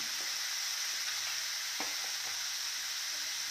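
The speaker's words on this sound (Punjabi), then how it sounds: "ਟਮਾਟਰਾਂ ਦੇ ਨਾਲ ਵੀ ਇਹਨੂੰ ਅਸੀਂ ਇੱਕ ਅੱਧਾ ਮਿੰਟ 1 ਮਿੰਟ ਅਸੀਂ ਫੇਰ ਇਹਨੂੰ ਫਰਾਈ ਕਰਾਂਗੇ" Carrot and fenugreek sabzi fries with tomatoes in a pan, giving a steady close hiss and sizzle with a few soft stirring scrapes, no voice.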